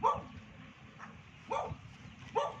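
A dog guarding chickens barks three times in short, spaced bursts, moderately close, over a low rumbling background.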